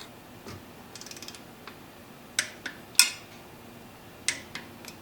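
A ratchet wrench drives two 10mm bolts fastening a throttle cable to the intake manifold of a Jeep 4.0L engine, giving a few quick bursts of light ticking followed by several sharper, separate metallic clicks, close and moderately loud.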